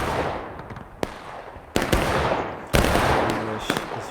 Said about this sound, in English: It looks like he fired a shell, maybe not canister right there.